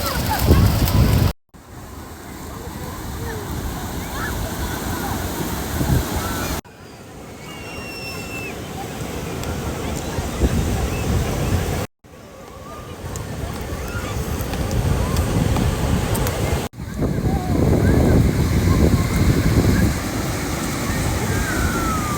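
Sea waves wash in onto the shore and draw back in a steady loud roar, with gusts of wind buffeting the microphone and brief gaps between takes.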